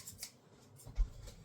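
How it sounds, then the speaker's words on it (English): A few quiet, close snips of scissors slicing through paper, with soft rustling between the cuts. "And then with the scissors."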